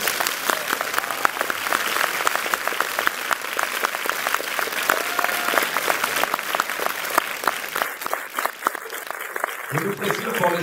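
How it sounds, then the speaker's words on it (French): Cinema audience at a French preview screening applauding after the film, dense steady clapping throughout, with a voice joining near the end. "faites un peu d'applaudissements pour savoir comment ça vous a plu"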